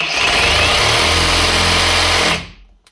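A cordless GTM RS18/150BL reciprocating saw runs at a steady high-speed whine for over two seconds, then cuts off and winds down quickly, loud and close with no talking.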